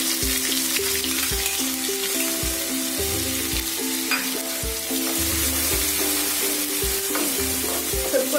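Coriander seeds and ginger-garlic paste fry in a pan with a loud, continuous close sizzle, with regular soft stirring knocks throughout and a low steady hum beneath.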